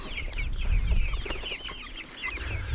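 A chicken clucks softly and repeatedly up close, with small rustling and handling noises underneath.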